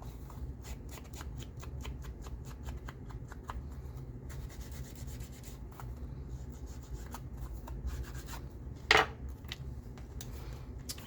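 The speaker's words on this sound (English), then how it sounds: "I'm going to just distress a little bit on the edges here" Edges of a paper card being distressed for steampunk ephemera, a steady soft rubbing and scuffing that runs throughout at close range, with one brief sharper scrape partway through.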